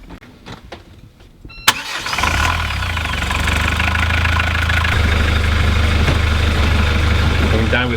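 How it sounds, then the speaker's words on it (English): A yacht's marine engine, freshly refilled with oil, cranks and catches after a quiet stretch with a few knocks, then settles into a loud, steady low idle that runs to the end. "So I think we can try to switch on the engine and see whether it works."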